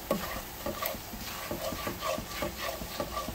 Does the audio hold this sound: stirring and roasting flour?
yes